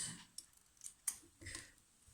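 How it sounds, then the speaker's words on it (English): Scissors snipping sewing threads on a fabric mask, with several quiet, close, crisp cuts spread across a couple of seconds. "Trim your threads like that"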